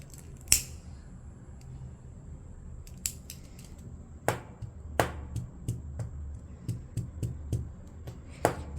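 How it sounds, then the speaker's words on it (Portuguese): Scissors snip through a piece of crochet yarn, a few sharp separate clicks spread at uneven intervals, close and fairly quiet over a low steady room hum with no talking. "Vamos cortar aqui um pedaço de fio."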